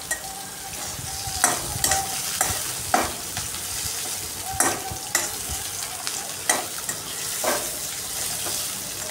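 Carrots are stirred through hot oil in a pan as they're added, with a steady sizzle broken by repeated scraping stir strokes, close and fairly loud, with no voices.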